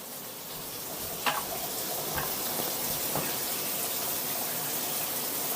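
A cold shower runs steadily indoors, a continuous hiss of spraying water filling the whole stretch with a few faint knocks or clicks scattered over it.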